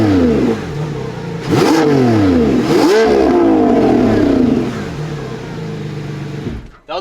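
A V12 supercar engine with exposed engine bay revs hard several times to about 8,000 RPM, rising and falling with a loud, close, sweeping whine before settling toward idle.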